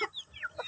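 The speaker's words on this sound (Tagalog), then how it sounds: "ito ang ating inahin" Short soft clucks from a hen, a few quick clucking sounds close by with brief gaps between them.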